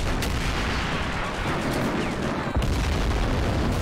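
Bazookas fire at tanks during a large Army Men video game battle. Booms and shots layer into a dense, continuous roar, with a sharper blast standing out near the end.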